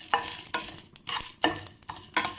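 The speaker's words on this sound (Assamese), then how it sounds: "এইখিনি মই এতিয়া ফ্ৰাই কৰি লম মানে ভাজি লম" Carom seeds, panch phoron, cumin and dried red chillies are dry-fried in a pan on a low flame for a jujube pickle, with about six rhythmic scraping stirs and a faint sizzle between them.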